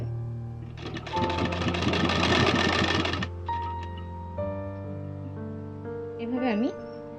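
A sewing machine runs in one short burst of steady rapid stitching along a fabric frock belt, with a voice talking before and after the run.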